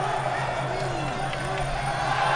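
Steady crowd noise from a Muay Thai fight at Lumpinee stadium in Bangkok, a continuous roar of cheering and babble running through the whole stretch at even loudness, with a commentator-like voice murmuring underneath.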